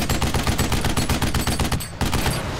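Rapid automatic weapon fire in the shooter game Duke Nukem Forever, a loud continuous burst of shots that breaks off briefly near the end and then resumes.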